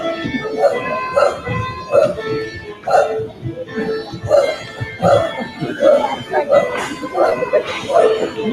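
Children in a first grade school play imitate dogs barking, with a string of short voiced woofs at a steady rhythm, mixed with giggles and a cough, all close and fairly loud.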